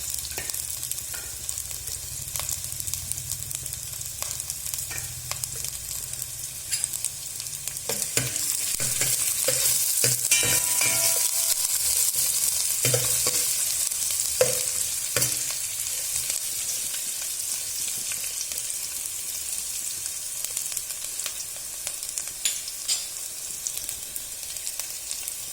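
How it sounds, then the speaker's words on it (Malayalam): Cashews, onion, garlic and ginger fry in a pan for chicken soup, giving a steady close sizzle with scraping stir strokes that swell louder through the middle and settle back down. "കുറച്ച് അണ്ടിപ്പരിപ്പ്, കുറച്ച് ഉള്ളി, വെളുത്തുള്ളി, കുറച്ച് ഇഞ്ചി ഇതിട്ടിട്ടൊന്ന് മൊരിച്ചിട്ട് വേണം"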